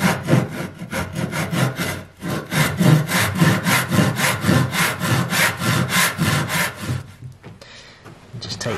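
A hand saw cuts across the shoulder of a timber tenon in steady back-and-forth rasping strokes, close and loud, easing off near the end.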